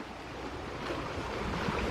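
Creek running full after 1.7 inches of heavy overnight rain, a steady broad rushing wash of water, close and continuous with no voices.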